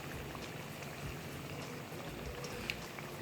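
Potato pakora chips sizzling steadily in hot oil while they brown on both sides, a continuous crackling hiss with small pops, close and fairly quiet, with no voices.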